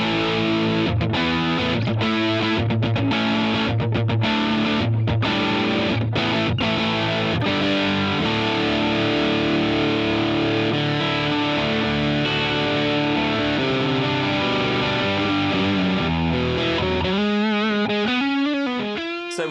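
An electric guitar runs through combined fuzz and distortion pedals split by a crossover, a Super Rodent distortion on the highs over a big muffy fuzz on the lows, playing loud sustained chords with a few choppy stabs and a closing run.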